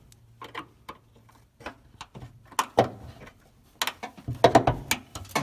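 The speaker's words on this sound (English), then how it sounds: "Stick the screwdriver in, pry both sides open" A screwdriver pries open a hood shock clip on a 2005 Dodge Ram 1500, giving sparse metallic clicks and scrapes that build to sharper snaps near the end, close up with no talk.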